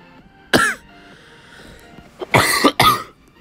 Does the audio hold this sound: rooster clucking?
no